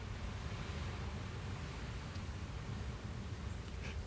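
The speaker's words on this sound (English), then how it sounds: "The wind hasn't stopped." Steady, roaring wind blows outdoors, a continuous broadband rush that stays fairly even and close to the microphone throughout, with no voices over it.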